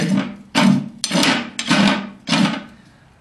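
A farrier's rasp files down the edge of a horse's hoof where it overhangs a new shoe, making five rough, rhythmic scraping strokes about half a second apart, close and loud with no voices.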